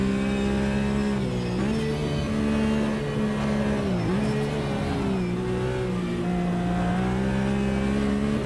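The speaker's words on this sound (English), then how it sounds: "Okay, got another faster car coming through here." In Automobilista 2 multi-class GT racing, a race car engine drones steadily near the listener, its pitch dipping and climbing through gear changes as a faster car comes through. No one speaks.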